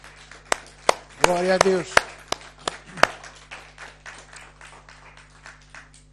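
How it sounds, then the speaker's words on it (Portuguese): Congregation clapping at a Sunday church service, a short burst of crisp, uneven applause with sharp individual claps, a voice calling out briefly over it, then scattered claps trailing off. "Vamos dar uma grande salva de palmas a Jesus."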